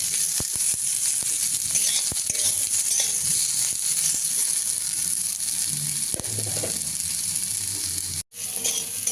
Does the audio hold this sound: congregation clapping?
no